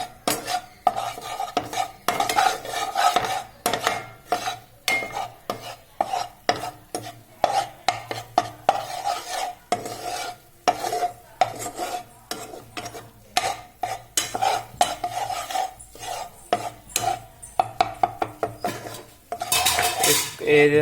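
Butter sauce for Italian white pasta is stirred in a pan over the flame, giving prolonged, busy clattering and scraping of a utensil against metal in quick irregular strokes, with a light sizzle underneath and no talking.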